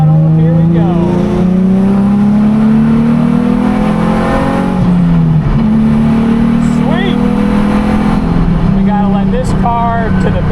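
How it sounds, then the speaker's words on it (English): A go-kart built from a Walmart F1 toy car runs at full throttle on a wet track, its motor droning as a loud, continuous whine that rises, dips and climbs again, close up, with brief voices over it. "Hammering the throttle, here we go."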